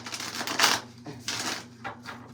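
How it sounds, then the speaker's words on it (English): Tarot cards shuffled in a few separate bursts, each a quick papery riffle or slap with short gaps between, close to the listener over a faint steady hum. "Just know that the 2 or 3 shuffles you see me do here is not all I do."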